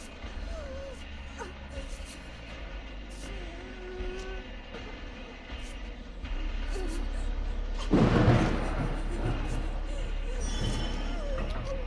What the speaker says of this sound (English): Damn, that was a loud thunder.